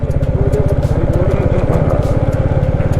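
A motorcycle on a mountain road in Mustang, its engine thumping in a fast, even pulse, loud and close, with wind noise over it and no talk.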